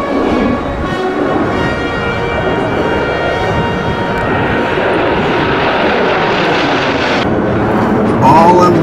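A loud, continuous engine roar from Blue Angels jets passing overhead at a Melbourne air show, swelling and shifting in pitch as the sound sweeps across.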